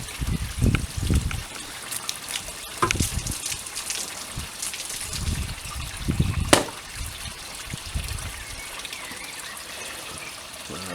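Water trickling and splashing into a wooden goldfish pond, with intermittent gurgles and drips, a few louder plops and faint background noise.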